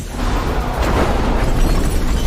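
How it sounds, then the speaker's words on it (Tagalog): Gunfire and explosions erupt as a convoy is ambushed at a meeting point in a film, a loud continuous roar of blasts and rumble with no clear separate shots. "pagdating ng convoy sa meeting point, agad na sumiklab ang putukan"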